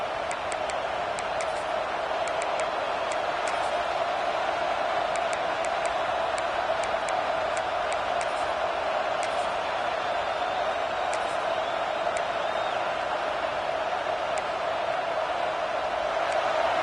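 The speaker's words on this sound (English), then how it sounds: "This crowd trying to make life miserable for this offense." Football stadium crowd keeps up a steady, distant roar with scattered sharp ticks and claps, a continuous wash of noise at moderate level.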